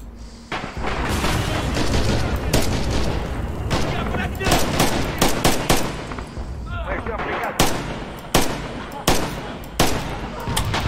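Heavy gunfire from the Red Orchestra 2 battlefield: dense, loud bursts of rifle and machine-gun shots with booming reports, a steady barrage of sharp cracks throughout.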